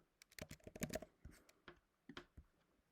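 Rapid typing on a computer keyboard, a quick run of close, crisp key clicks with short pauses between bursts, heard alone with no talking.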